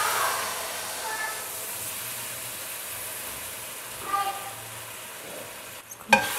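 Sugar syrup poured into hot semolina halwa sizzles with a steady hiss that fades, then spoon stirring and a sharp clatter near the end, close and moderately loud.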